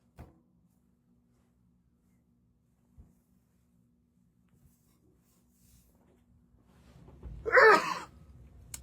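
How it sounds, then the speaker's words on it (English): One powerful human sneeze near the end, loud and close, with a short breathy build-up before the burst, after a long near-silent stretch with a few faint knocks. "I'm going to sneeze, and I'm sorry."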